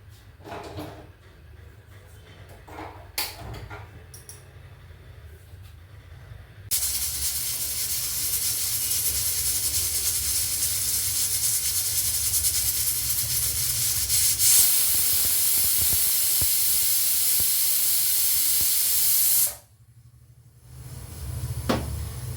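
A loud, steady hiss of steam bursts from a pressure cooker on a stove and holds for about thirteen seconds before cutting off abruptly, with faint kitchen clatter before it.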